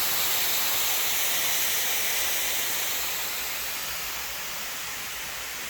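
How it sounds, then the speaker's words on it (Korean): Scalding steam at about 120 degrees hisses steadily from a 500-litre sterilizer used for mushroom liquid culture, a loud, continuous, close rush that fades slightly over time, with no talking. "엄청 뜨거운 그런 증기입니다"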